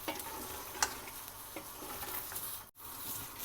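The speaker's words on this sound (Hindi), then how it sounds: "थोड़ा इसको भून लेंगे क्योंकि चने हमारे ऑलरेडी गले हुए हैं" Already-boiled chickpeas are sautéed in a hot pan, a continuous close sizzle with scattered crackles and light stirring scrapes, and a brief sharp dip near the end.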